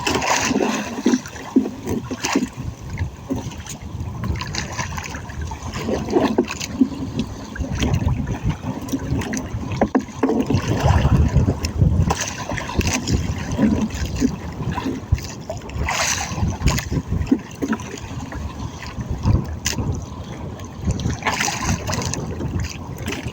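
A small fishing boat rides rough waves at sea, with a continuous wash of water, slaps and splashes against the hull, and a low rumble underneath, heard close and steady throughout.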